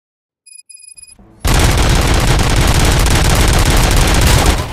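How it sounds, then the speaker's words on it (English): Dense, sustained gunfire erupts in RoboCop: Rogue City after a few faint beeps, a loud continuous fusillade of rapid shots with booms that holds steady to the end. "Gunshots? What's going on?"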